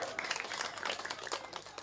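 Applause from an audience at a humorous Sundanese Islamic sermon marking Independence Day, a steady dense patter of many hands clapping, fairly close, with a few voices mixed in.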